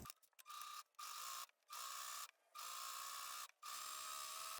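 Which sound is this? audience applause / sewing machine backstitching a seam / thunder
sewing machine backstitching a seam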